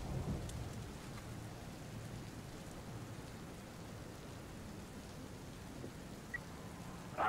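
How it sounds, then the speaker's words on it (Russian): Quiet rain with a low thunder rumble in the police-management video game This is The Police, a soft continuous hiss of falling rain with a faint roll of thunder early on, alone and fairly distant. "Еще и дождик, мать его"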